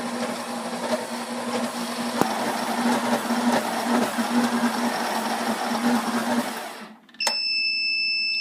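Stand mixer paddle working baguette dough on low speed, a steady motor hum with rhythmic thumping and churning for about seven seconds before cutting off, followed by a faint high electronic whine.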